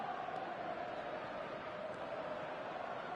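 A stadium crowd in a football video game makes a low, steady murmur that stays faint and distant, with no clear cheers rising above it.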